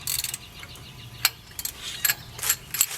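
Ratcheting clicks and metallic clanks from a wrench breaking loose wheel bearing bolts on a Chevrolet Trailblazer, heard as short, close, irregular bursts with quiet gaps between them.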